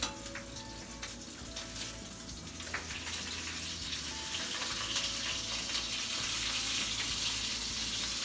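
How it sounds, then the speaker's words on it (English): Beef short ribs sear in a hot pan, giving off a continuous loud sizzle and hiss that grows slightly denser toward the end, with no talking. "Always sear your meat."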